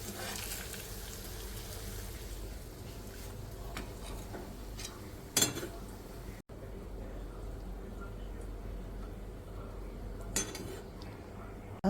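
Cooked chicken steak being served onto a plate, with faint clinks of utensils and cookware over a steady background sizzle from the pan.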